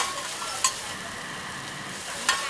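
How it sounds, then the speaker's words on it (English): Pad thai stir-fried at a Bangkok street stall gives a steady, loud sizzle with two sharp metallic clanks of the cooking utensil against the pan. "Look at him go."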